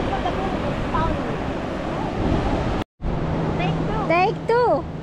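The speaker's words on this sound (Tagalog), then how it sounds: "Lumipat kami guys kasi nababasa kami ng alon. Umaalon dun." Ocean waves wash onto a beach on a day off, a loud continuous surf roar with wind buffeting the microphone, and people talk over it near the end.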